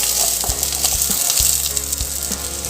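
Small onions sauté in hot oil for a fish curry, a loud continuous sizzle and crackle close up, with occasional low taps of stirring in the pan.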